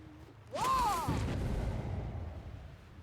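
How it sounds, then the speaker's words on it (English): Explosion in the Dead by Daylight video game: a single distant boom arriving after a brief rising whine, then a rolling rumble that slowly fades. "I heard an explosion from over here."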